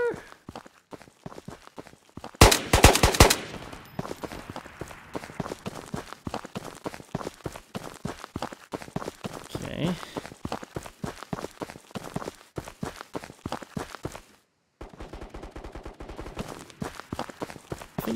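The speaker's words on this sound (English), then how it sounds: "Some shots in my back as well" Gunfire in the VR shooter Ghosts of Tabor crackles in a dense burst near the start, then scattered shots and footsteps follow at an irregular pace, with a short gap of silence near the end.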